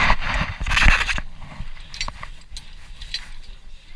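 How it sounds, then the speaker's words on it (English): A C-clamp squeezes an Acura TL brake caliper piston back, giving a burst of loud metallic grinding and creaking up close, followed by quieter scattered clicks and scrapes of the tool. "Get our C-clamp here. What we're going to do is we're basically going to just squeeze down on this"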